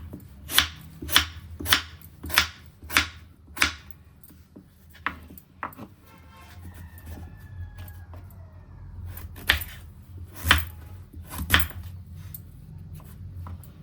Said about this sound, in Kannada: ಇವಾಗ ಹೋಳಾಗಿ ಕಟ್ ಮಾಡ್ಕೊಳ್ಳೋಣ